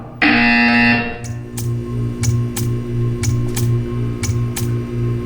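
A loud, sustained electronic buzzer from the video game Portal 2 blares for about a second, then stops, followed by a low hum and a series of sharp, evenly spaced clicks.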